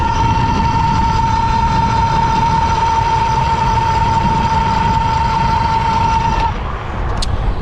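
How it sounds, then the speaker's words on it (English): Haoqi Camel electric cargo bike motor running loud under a ride, a steady high-pitched electric whine over broad rolling and wind noise that drops away near the end. "The motor is really loud on this bike."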